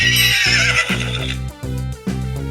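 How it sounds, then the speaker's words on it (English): A horse sound effect: a loud, close neigh and whinny that shakes and falls away, backed by a few rhythmic hoof clip-clops, with no voices. "H. Horse."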